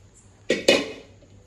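A metal cooking pot is handled, giving two sharp, close clanks about a fifth of a second apart, each ringing briefly in an otherwise quiet room.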